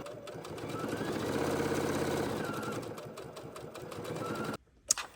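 A sewing machine stitching fabric with a quarter-inch foot for half-square triangles, a steady fast mechanical whir with rhythmic needle knocking that runs continuously, then stops abruptly near the end with a brief click.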